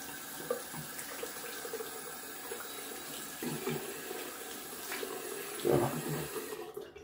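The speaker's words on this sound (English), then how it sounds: "Rinsing out the tub." Tap water running into a sink while a shaving soap tub is rinsed out, a close steady splashing with clunks of the tub, cutting off abruptly at the end.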